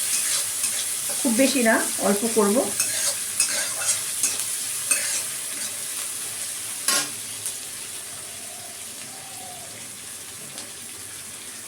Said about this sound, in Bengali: পেঁয়াজটা একটু ভাজা ভাজা করব